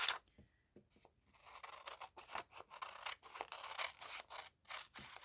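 Scissors trimming magazine paper, a close run of repeated crisp snipping and rustling cuts in a steady rhythm, fairly quiet with no talk.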